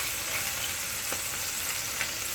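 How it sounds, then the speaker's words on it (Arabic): Beef sears in oil in a tagine with no spices added, giving a steady, close, even sizzle throughout with a couple of faint clicks. "كنشحروه بحال هكايا بالزيت بلا التوابل"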